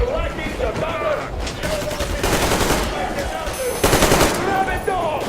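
Sustained automatic gunfire in a Metro Exodus cutscene, dense rapid bursts that hold loud and close throughout and swell near the end, with shouting voices mixed into the shooting.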